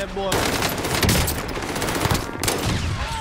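Rapid automatic gunfire in Call of Duty Warzone, loud and continuous bursts rattling close up with brief gaps, a voice faintly mixed in underneath.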